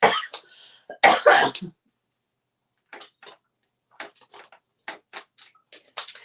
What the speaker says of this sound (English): I feel like I'm getting ready to start coughing.